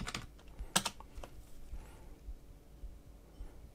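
Keys clattering on a computer keyboard as a command is typed at a Windows 11 PC, a quick burst of clicks near the start followed by softer scattered taps, close and fairly quiet with no talk.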